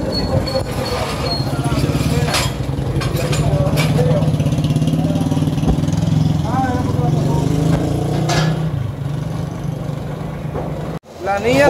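A Suzuki AX100 motorcycle engine, freshly fitted with a new spark plug after cylinder and head work, putters along steadily nearby, with voices talking over its running note until it cuts out near the end.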